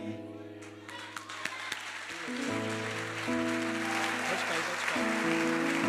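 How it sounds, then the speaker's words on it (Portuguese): Organ or keyboard chords open, then a church congregation breaks into applause, the clapping swelling and continuing under sustained music. "Pode aplaudir o Senhor."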